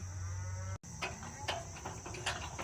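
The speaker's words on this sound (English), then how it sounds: "let's go let the cows out" Cows and newborn calves moo on a farm, their low calls carrying over steady barnyard background noise with no talking.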